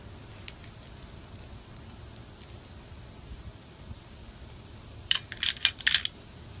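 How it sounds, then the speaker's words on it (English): Beads from a Tribal Stripes bead bundle rattle in a sack, a quiet hiss giving way to a quick cluster of bright clicking, jingling bursts near the end, close and alone. "this is a serious sack of beads"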